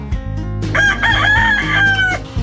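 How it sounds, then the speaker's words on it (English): A rooster crows once, loud and close, a full cock-a-doodle-doo rising and holding before it trails off, over a low rumbling background. "The rooster,"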